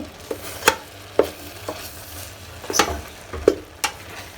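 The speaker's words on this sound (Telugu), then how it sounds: "మధ్యలో ఒకసారి ఇట్లా కలబెట్టుకోవాలండి" A spoon stirs tomato bath in a pot, giving sharp scraping clinks against the metal at irregular intervals over a low bubbling sizzle.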